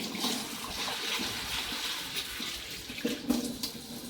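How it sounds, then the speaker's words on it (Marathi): Soaked sorghum grains rinsed under running tap water: a continuous splashing stream into a vessel, moderately close, with brief louder gushes near the end. "हे बघा नळाखाली धुवून घ्यायची चांगली।"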